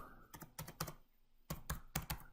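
Quiet, close keystrokes on a computer keyboard, tapped in two quick bursts of several clicks each with a short pause between them.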